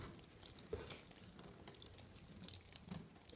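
Water mixed with liquid minerals is poured into a red wiggler worm bin, giving faint, irregular drips and small splashes that sound close but quiet.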